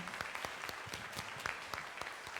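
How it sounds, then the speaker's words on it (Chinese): A church congregation at a Presbyterian service applauds with a soft, distant patter of individual hand claps that keeps an even pace throughout. "好，我们鼓掌，恭喜他们。"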